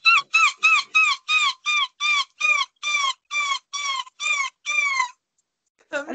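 A person imitates a seagull with a rapid series of about a dozen shrill, descending squawking calls in a steady rhythm, loud and close, followed by a brief pause and the start of another sound.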